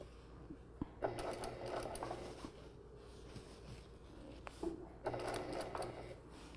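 A domestic sewing machine stitches across fabric at a quarter-inch seam in quiet, brief bursts of rapid mechanical whirring. Faint handling noises fall between the runs.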